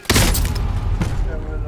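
Gunfire in Call of Duty: Modern Warfare: loud close bursts of shots with booming impacts and a second blast near the end, in a dense game mix.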